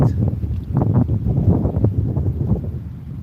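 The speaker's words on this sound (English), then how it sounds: "Yeah, a little windy today." Steady gusting wind buffets the microphone with a low, continuous rumble, rising and falling in strength, with no voices.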